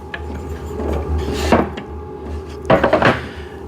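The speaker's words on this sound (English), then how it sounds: "Let's flip this table piece over so you can see how the bottom looks." A VEVOR cycling desk table piece is flipped over, giving a couple of short wooden knocks and scrapes with a quiet pause between them.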